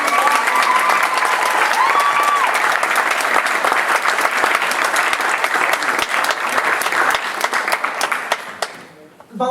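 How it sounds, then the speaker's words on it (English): Audience applause fills a theater hall at a community theater volunteer gala, dense steady clapping sustained for several seconds before tapering off abruptly near the end. "Give yourselves a round of applause."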